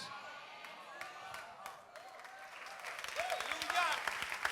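A church congregation applauds during a Spanish-language sermon, scattered claps that swell into fuller applause, mixed with voices talking and calling out.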